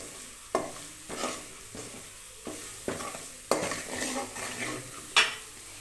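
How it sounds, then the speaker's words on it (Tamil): Food frying in a pan is stirred with a utensil, giving repeated scraping clinks and sizzling at a steady rhythm, about every half second to one second, up close with no talking. "இப்போ நம்ம கிளறி விட்டுடலாம்."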